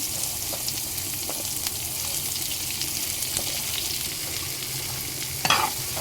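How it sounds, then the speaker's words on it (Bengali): Chopped onions frying in a pan after prawns were cooked, a continuous close sizzle with scraping stirring strokes and a louder clatter near the end. "এখন আমি পেঁয়াজগুলো দিয়ে দিচ্ছি"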